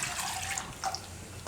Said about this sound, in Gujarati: તો હજી આપણે આમાં થોડુંક પાણી નાખીશું,